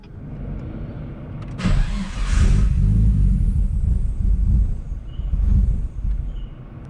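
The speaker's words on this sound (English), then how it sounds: "Weird sound coming from the engine." A Nissan S13 with an RB20DET engine, damaged after blowing up on a track, cranks and catches, then runs and revs unevenly with a weird sound for several seconds, loud and close.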